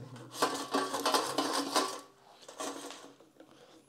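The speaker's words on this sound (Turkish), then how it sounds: "Hemen bir karıştıracağım" Food is stirred in a General Mobile air fryer basket, giving close clinks and scraping rattles of utensil against the metal basket in a few bursts before fading quieter, with no voices.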